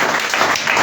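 A church congregation applauds during a Sunday worship service, giving a brief, dense burst of clapping from many hands, loud and continuous with no voices standing out.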